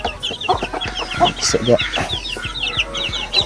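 Chickens clucking inside a backyard coop shared with turkeys and ducks, a busy run of close, rhythmic clucks and chattering calls, with a brief spoken word.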